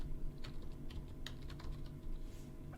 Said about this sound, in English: I don't know why my typing is slow